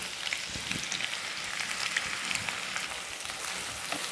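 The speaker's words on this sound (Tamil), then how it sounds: "இது நல்லா அந்த எண்ணெயில் அப்படியே பொரியணும்." Sliced onions frying in oil for Kashmiri pulao give a dense, even, close sizzle with fine crackling pops, steady throughout with no talk.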